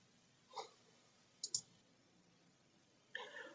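Computer mouse clicks sound close and quiet in a still room: one single click, a quick double click, and then a final click with a short rattle at the end.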